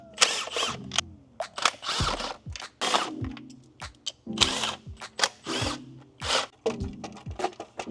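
Short bursts of a power tool spinning out valve cover bolts on a 2024 Acura Integra Type-S engine, with a dozen or so quick whirring pulses and clicks close by, separated by brief pauses.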